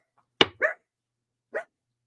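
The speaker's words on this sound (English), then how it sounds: "Pardon the dog." A dog gives two quick close barks, then one more after a brief pause, each short and sharp against an otherwise silent room.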